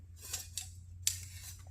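Snipping cuts through old, rotten rubber fuel lines on a 1966 Buick, three or four crisp blade clicks spaced apart over a low steady hum, quiet and close.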